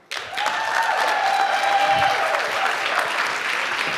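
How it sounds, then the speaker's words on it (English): Audience at a pitch day event bursts into sustained applause that starts suddenly and stays loud and dense, with a few whoops, for the presenting team. "Give that applause again now for our second team,"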